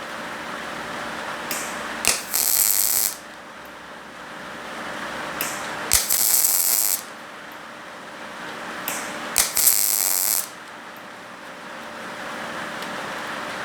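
A YesWelder Firstess DP200 dual pulse multi-process welder runs low on shielding gas, laying a dirty bead in three separate bursts of about a second each. Each burst is a loud, crackling hiss over a steady background hum.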